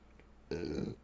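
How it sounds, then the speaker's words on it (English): A single loud, throaty burp erupts suddenly after a quiet moment, close to the microphone and lasting about half a second, in an otherwise still windowless room. "Burping and farting. Got gas coming from all kinds of directions."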